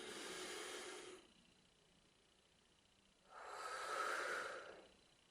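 Slow yoga breaths taken while holding a sumo squat: a long airy exhale, a quiet pause, then another soft, breathy inhale close to the mic, with no talking.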